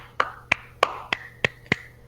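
Podcast hosts clap for the Utah Jazz basketball team with six sharp, evenly spaced claps, close and fairly loud, with no talking over them.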